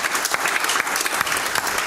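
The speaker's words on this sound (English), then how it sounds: "Give the Lord a hand clap." A church congregation claps their hands together in praise, a loud close burst of many hands with quick rhythmic peaks throughout.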